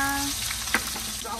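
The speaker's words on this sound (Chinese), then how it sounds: "大蒜、生姜爆香" Garlic and ginger sizzle in hot oil in a wok, a soft, steady frying hiss heard up close with a brief stir or clink partway through.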